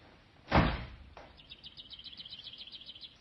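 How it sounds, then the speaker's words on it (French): A sharp thump, then a small bird chirps in a quick repeated twittering series, fairly faint and close, over quiet background. "Les oiseaux."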